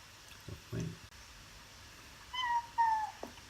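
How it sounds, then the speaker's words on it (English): Cat meowing in a begging way, two short calls followed by a pair of drawn-out, rising-falling meows, fairly close over a quiet room with soft knocks, no talking. "I heard a cat begging."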